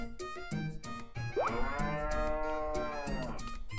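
Cows moo in the farming video game Harvest Moon: A New Beginning, one long drawn-out moo rising and holding, with short game sound effects clicking around it.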